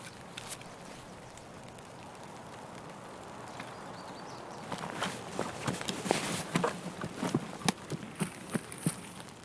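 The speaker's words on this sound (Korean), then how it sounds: "뭐 뛰는 소리가 들리는데 안에 소리 들리잖아요" Running footsteps in a video game, faint at first, then growing into a quick, uneven patter of steps over a low ambient hiss in the second half.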